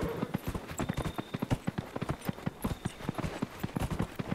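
Horse hooves clip-clopping at a steady riding pace in Dragon Age Inquisition, close and fairly loud, a continuous run of rhythmic thuds with no talk over them.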